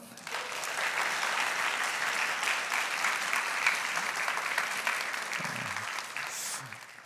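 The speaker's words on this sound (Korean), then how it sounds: "박수로 한번." Congregation applause during a Sunday service at Seattle Brothers Church, downtown campus: a full, even round of many hands clapping lasting about seven seconds, with faint voices under it near the end.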